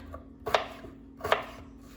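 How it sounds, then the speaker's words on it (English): A knife chops vegetables for pav bhaji on a board in two crisp, separate strikes about a second apart, close and fairly quiet, with a faint steady hum behind. "I don't really care how I chop them because they're gonna all be mushed up in the end"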